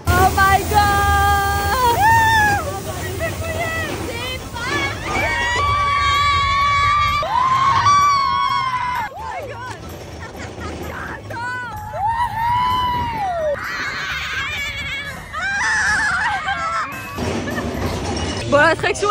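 Riders scream and cheer with excitement throughout a run on the mine train roller coaster at Disneyland Paris, with loud, continuous crowd shrieks rising and falling over the rumble of the ride.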